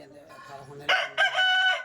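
An 11–12-month-old Nemali rooster crows loudly and close by, a strained, rising call that breaks briefly and then stretches out, following a short stretch of quieter sound.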